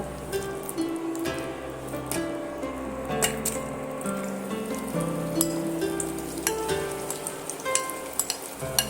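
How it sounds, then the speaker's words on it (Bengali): Milk-soaked semolina fries in hot ghee over low to medium heat, giving a steady soft crackle and bubbling with scattered sharper pops throughout. "সুজিগুলো এই সময় এইভাবে সময় নিয়ে এইভাবে একটু ভেজে দিতে হবে"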